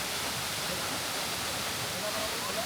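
Jang Falls in mountain country near Sangti Valley, a continuous broad rushing roar of falling water, steady and fairly close with no break.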